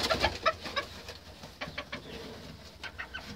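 Hens softly clucking and cooing in short bursts, a cluster of close calls at the start followed by scattered quieter calls, with no talking.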